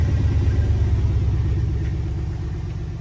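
A 2008 Chevy Avalanche 5.3 V8 runs just after its first start following timing chain work, a steady close, loud low rumble at idle with no talk.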